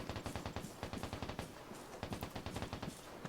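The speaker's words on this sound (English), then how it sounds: "And those are gunshots in the back." Bursts of rapid automatic gunfire in the video game Vigor crackle in the background, several volleys of sharp repeated shots with brief pauses between them, distant rather than close.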